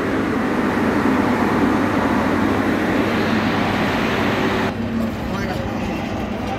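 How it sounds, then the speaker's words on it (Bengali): A train pulls out of Dhaka Airport railway station bound for Gazipur, giving a steady rumbling roar with rail noise that drops slightly toward the end, heard from on board or close by. "ট্রেন ছেড়ে দিয়েছে"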